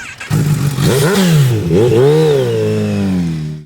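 A Kawasaki ZH2 motorcycle fitted with an Akrapovic slip-on exhaust is revved hard and close, rising in two sharp blips and then settling into a loud, sustained high-rev drone before cutting off.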